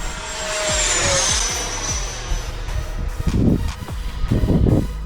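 An aircraft engine roars at full speed, a steady loud drone with a high whine sliding slowly downward, followed by pulsing, fluttering bursts of engine noise near the end.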